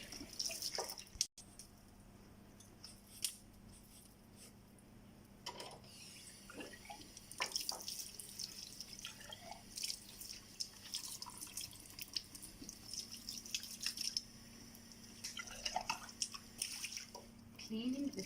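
Water dripping and trickling while a cylinder of zinc oxide is cleaned, scattered soft drips and splashes with a faint background hum, close and quiet, with people talking intermittently.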